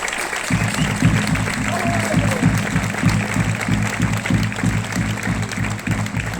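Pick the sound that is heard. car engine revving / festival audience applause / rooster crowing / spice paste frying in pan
festival audience applause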